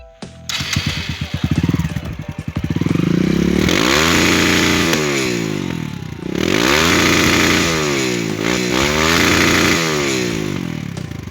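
A 125cc mini dirt bike revving hard, its small engine rising and falling through repeated sharp throttle blips with a buzzy, rattling exhaust, loud and close throughout.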